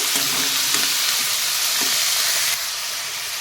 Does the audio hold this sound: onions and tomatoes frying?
yes